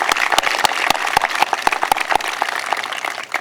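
Audience clapping at a college commencement ceremony, a steady wash of many hands with sharper individual claps standing out, sustained at even loudness for a few seconds.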